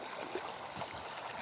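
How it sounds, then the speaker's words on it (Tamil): A stream in Muscat, Oman, gives a soft, steady rush of flowing water with faint gurgles. It is quiet and continuous, with no voices. "அதான் இந்த தண்ணி எப்பயும் ஓடுதில்ல."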